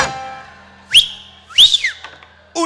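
A person whistles within a huayno song, with bright sliding whistle phrases rising and falling over a quiet instrumental background and a short second burst near the end.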